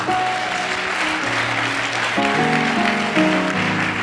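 A church congregation breaking into steady applause and clapping, dense and close throughout, mixed with sustained musical tones underneath.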